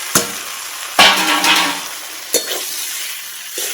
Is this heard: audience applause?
no